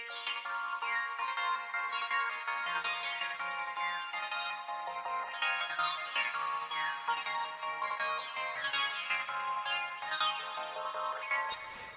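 Piano melody run through an arpeggiator with telephone-style EQ and reverb, giving a thin, bright tone of rapidly cascading notes that ripple steadily for the whole stretch, with no voices.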